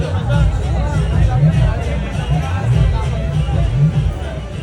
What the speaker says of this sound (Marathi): एकच नंबर, खतरनाक, जबरदस्त. गर्दी बघा, गर्दी बघ.